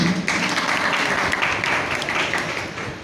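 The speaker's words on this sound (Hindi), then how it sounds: "इसके लिए आप अपने लिए ताली बजाएं।" A congregation applauds during a Digambar Jain sermon, a dense, steady wash of many hands clapping together that fills the whole hall for a few seconds with no talk over it.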